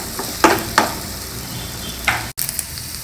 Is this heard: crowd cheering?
no